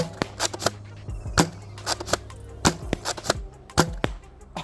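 Gnarl Blink Maulr toy blaster firing foam darts at high FPS: a string of sharp, loud snapping pops in an uneven rhythm, with mechanical clacks from priming between shots and no speech.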